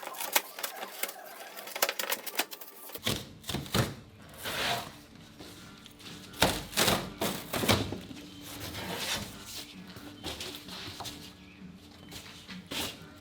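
Old foam insulation is torn off the hood of a Mercedes 560 SEC in bursts of ripping and scraping with short pauses, close by, after a quiet start.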